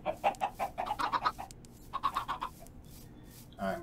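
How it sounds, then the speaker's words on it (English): Chickens in the Minecraft video game cluck in short, fairly close bursts, a quick run of calls followed by a pause and then another brief cluster, with no talking. "Only got one chicken out of 9 eggs."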